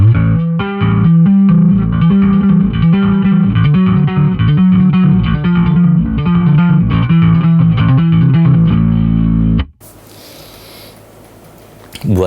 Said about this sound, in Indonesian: Flangernya dinyalain dan dari oktav pindah ke drive.